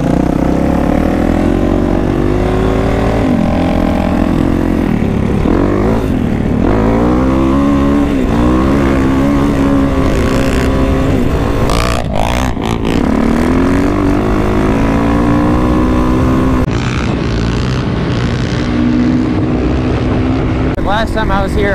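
Dirt bikes ridden on desert trails, their engines droning steadily and loudly throughout with rising and falling revs, a couple of riders passing close, under talk from a rider.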